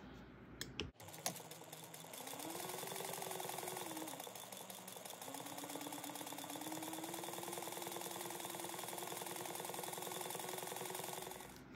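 A sewing machine stitches down a fabric strap, starting with a click and then running as a steady, rapid mechanical whir for about ten seconds, quiet and with no talking.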